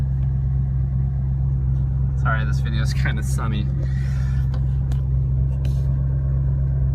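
A Ford Mustang engine idles with a low, steady rumble that runs unbroken from start to finish. Someone talks briefly over it partway through.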